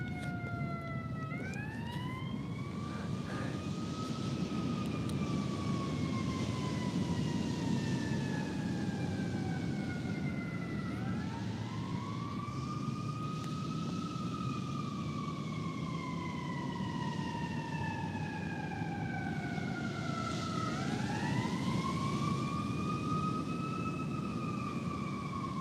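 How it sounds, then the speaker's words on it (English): Emergency vehicle siren wailing as it passes on the street, rising and falling in long sweeps that swell close then fade, over steady traffic rumble with no talk. "Let's let the siren go past"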